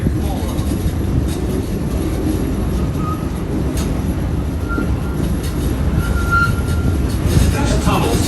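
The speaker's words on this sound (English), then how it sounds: "as we pull into the station, please everybody stay seated until this train comes to a full stop" A Disneyland Railroad train pulls into the station with a continuous low rumble and clatter. The noise is steady and moderately loud, with a voice speaking over it.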